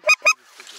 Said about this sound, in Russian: Сидит гусь в чучелах.